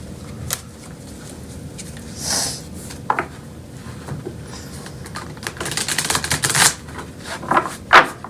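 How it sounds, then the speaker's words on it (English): A seldom-used, stiff tarot deck is shuffled in several short bursts of riffling and card slaps, separated by quieter pauses, close and fairly soft, with the loudest flurry near the end. "It's hard to shuffle."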